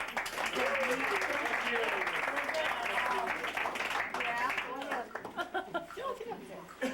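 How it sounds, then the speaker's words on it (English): Guests applaud at a 60th birthday party, clapping mixed with talk, chatter and a little laughter throughout, thinning out toward the end. "Big round of applause there."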